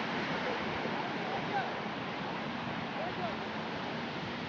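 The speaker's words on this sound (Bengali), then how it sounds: "ছোট ছোট ঢেউ।" Small sea waves washing in at high tide along the Oman coast, heard from a bridge above the shore as a faint, steady broadband wash with gentle swells and no distinct voices.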